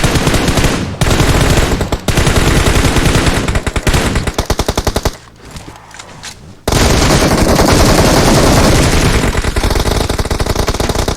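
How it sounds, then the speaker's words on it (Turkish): Loud automatic gunfire from PUBG Mobile hammers in fast, dense bursts close by, broken by a few short pauses and a quieter stretch before sustained firing resumes. "Her yerden adamlar sıkıyor."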